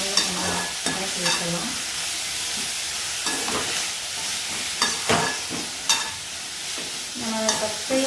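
Tomatoes frying in a pan for okra gravy, a steady broadband sizzle with scattered scraping and stirring clicks throughout, close and continuous with no talking.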